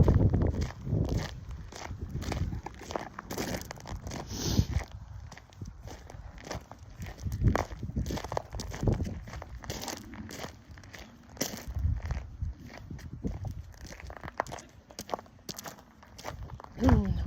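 Footsteps walk outdoors toward a back garden, a steady irregular crunch and shuffle of steps close to the microphone, with occasional crinkling, continuing throughout with no talk over them.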